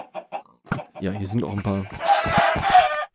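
Chickens clucking in Minecraft, a short burst of cackling bird calls at close range that rises after a voice speaks and continues mixed with his talk.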